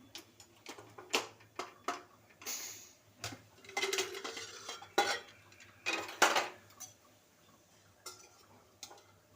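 A pressure cooker lid is handled and opened after cooking peas, with a series of sharp metallic clicks, clanks and scrapes of the lid and pot at close range, irregularly spaced.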